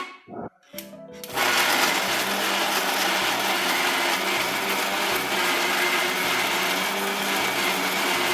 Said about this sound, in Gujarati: આ તમામ મિશ્રણને મિક્સરમાં દાણાદાર ક્રશ કરી લઈએ